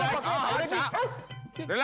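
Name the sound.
dog barking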